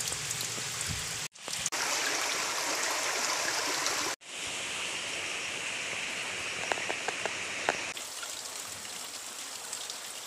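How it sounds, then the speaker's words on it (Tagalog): A creek flows steadily in a gold-bearing area outdoors, a broad, continuous rush of water that stays loud and close throughout, broken by brief cuts, with no voices. "Ito, sapa na to."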